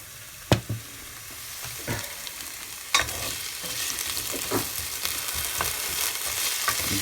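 Sliced potatoes sizzle gently in a pan for a tuna-and-potato-cream pasta dish, with sharp utensil scrapes and knocks as they are stirred and turned, a steady close frying hiss underneath throughout.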